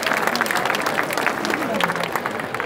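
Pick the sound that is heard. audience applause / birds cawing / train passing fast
audience applause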